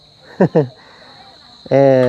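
Crickets chirr at night in a steady, thin, high drone that runs through the whole stretch, while brief bursts of voice rise over it near the start and end.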